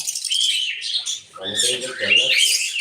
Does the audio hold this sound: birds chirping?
yes